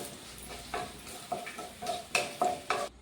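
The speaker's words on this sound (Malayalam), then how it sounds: "അപ്പോൾ ഇതേപോലെ ഒന്ന് വഴറ്റി കൊടുക്കാം നമുക്ക്" Ginger being sautéed in a pan for inji curry, with a spatula scraping and stirring in several distinct strokes over a soft, steady frying hiss, close by.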